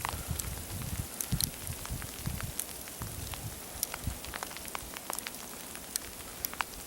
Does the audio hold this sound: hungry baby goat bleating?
no